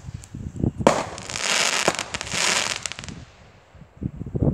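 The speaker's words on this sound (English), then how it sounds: "Nice fireworks out here" New Year 2022 fireworks exploding outdoors: loud, close bursts and crackling pops in quick clusters, with rumbling booms between volleys and a few fading echoes.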